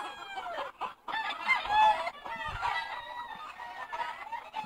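Imported hens cluck and roosters crow across a breeding farm in Peru, many birds layered at once in a busy, continuous chorus with no talk.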